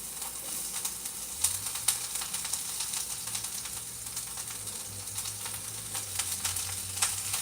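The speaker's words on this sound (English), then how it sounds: "let's put the onions in there" Onions sizzling in hot oil in a pan, a steady broadband fry with a few sharper pops and spits standing out near the start and end; a low hum runs underneath and no one speaks.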